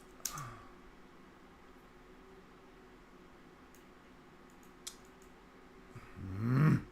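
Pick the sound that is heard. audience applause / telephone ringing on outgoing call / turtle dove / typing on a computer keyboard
typing on a computer keyboard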